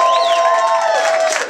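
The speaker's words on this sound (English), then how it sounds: "another big round of applause for PJ Stansbury" A live comedy-club crowd in Las Vegas cheers, whoops and applauds loudly and continuously, with high shouts rising above the steady roar.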